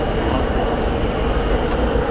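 Riding inside a metro train in China gives a steady, loud rumble of wheels and carriage noise throughout, with a faint high whine above it.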